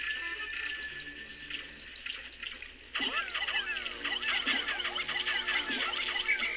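Pikmin creatures moving into pool water in the Pikmin video game, a bright bubbling, splashing patter with rising chirpy blips that starts suddenly midway and keeps going, over quiet game music.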